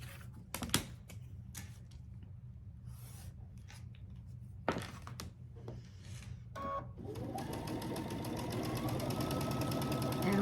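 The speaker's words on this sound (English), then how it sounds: "I'll sew all the way down one side" A sewing machine stitching quilt block pieces, charm-pack squares paired with background fabric, starts with scattered light clicks and taps, then settles into a steady, rising motor whir that runs to the end, all fairly quiet and close.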